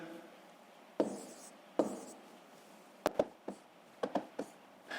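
Pen strokes writing out numbers for a long division problem, a series of short scratchy taps and scribbles close by, spaced irregularly with quiet pauses between them.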